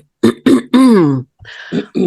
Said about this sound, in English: Oh, clear your throat